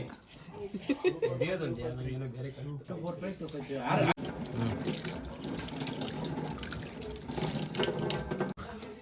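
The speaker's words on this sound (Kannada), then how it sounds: "ನಾನೀಗ ಕ್ಯಾರೆಟು ಮತ್ತು ಸೌತೆಕಾಯಿ ಎಲ್ಲ ತೊಳಿತಾ ಇದ್ದೀನಿ ಕಟ್ ಮಾಡೋದಕ್ಕೆ" Carrots and cucumbers being washed under a running kitchen tap, water rushing and splashing steadily into a sink, with a person talking over it.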